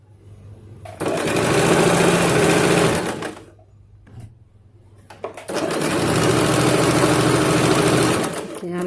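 A sewing machine stitches a straight salwar in two long, steady, close runs, with a brief lull and a few knocks between them.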